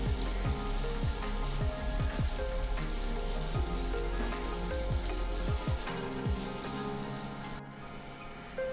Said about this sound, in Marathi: आता हे सर्व जिन्नस आपण व्यवस्थित एकजीव करून घेऊया।